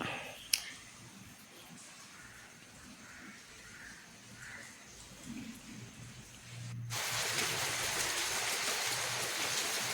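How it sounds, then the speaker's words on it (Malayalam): Heavy rain falls outdoors, starting as a faint distant patter with a brief knock early on, then abruptly becoming a loud, dense, steady roar of downpour close by, with no speech. "നല്ല മഴയുണ്ട്"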